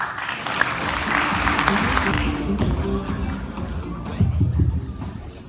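A conference audience applauds a speaker being welcomed to the stage, with steady clapping that fades after about two seconds into a murmur of crowd noise and some movement.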